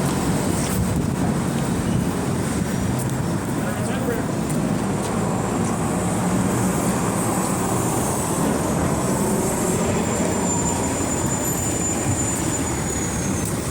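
A train at a New York station heard through steady rumble and wind buffeting the microphone, a continuous broad roar with a faint high squeal late on.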